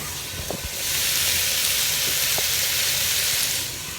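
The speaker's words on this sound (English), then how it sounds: "Now I've added the onions." Onions hit hot oil in a pan for a beef casserole and sizzle in a loud, steady hiss that swells after a few light clatters and holds for several seconds before easing slightly.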